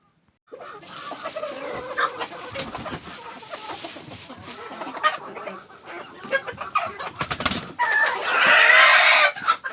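Tunç breed chickens cluck and squawk close by in a busy, irregular chorus, growing louder and more agitated toward the end, on a snowy day.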